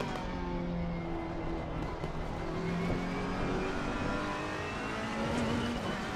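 A race car engine in a racing video game, running on fresh tires, drones continuously up close with strong, steady tonal harmonics that slide gently in pitch as the revs change, with no talking over it.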